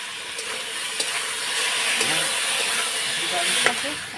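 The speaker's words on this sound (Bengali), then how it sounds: "একটু কাশ্মীরি লঙ্কার গুঁড়ো আর সব মশলা পেস্টগুলো ঢেলে দেবো দিয়ে এখন কষিয়ে নেব কিছুক্ষণ" Spice paste with Kashmiri chili powder fries in a pan, a steady loud sizzle and hiss with occasional stirring scrapes, close and continuous.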